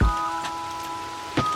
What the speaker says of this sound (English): Okay, so today it's raining.